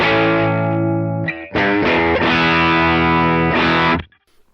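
A heavily distorted electric guitar chord through a gain pedal with the woolly low end cut rings out loud and sustained, briefly choked, then struck again and held before cutting off abruptly.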